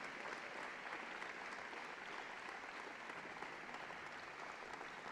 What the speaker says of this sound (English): please stand and be recognized with one final round of applause for the entire Hall of Fame class